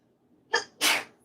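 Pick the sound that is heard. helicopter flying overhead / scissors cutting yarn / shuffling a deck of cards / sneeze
sneeze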